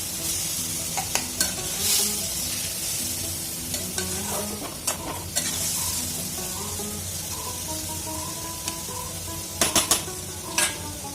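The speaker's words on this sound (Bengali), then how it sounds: "এইভাবে আমি সবজিটা কষাতে দেবো।" Vegetables with spice paste stir-fry in a pan for a papad and vegetable dish, with a steady close sizzle throughout. A spatula scrapes and taps against the pan now and then, and no one speaks.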